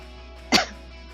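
A single short, sharp cough from a person with an itchy throat bursts out loudly and close over a quiet hum of room noise, then stops.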